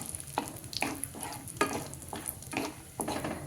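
A spoon scrapes and stirs frying cashews and raisins in a pan before rice goes in. Rhythmic strokes come about every half second to second over a soft sizzle, close up and moderately loud.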